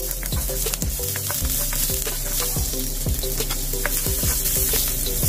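Onion half-cooking in hot cooking oil sizzles loudly and continuously up close, punctuated by repeated scraping knocks of a spatula stirring the pan.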